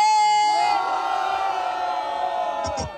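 A loud crowd at a rap battle roars and cheers continuously, with many voices shouting and whooping together close by.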